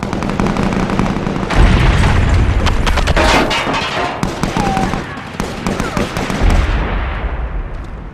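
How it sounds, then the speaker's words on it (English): A thudding grenade blast goes off in the SOCOM 4 beta video game, mixed with rapid bursts of gunfire. The explosion is loud and close, and a few rattling shots trail off after it. "Grenade out! Fire in the hole!"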